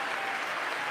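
Applause rises in the chamber of Congress during a Trump speech, a brief, loud burst of many hands clapping together in a large room.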